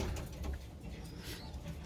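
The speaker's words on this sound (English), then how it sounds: "here's one of the Gannis birds" A pigeon in a loft gives soft, low, rolling coos close by, repeating through the short stretch with no voices present.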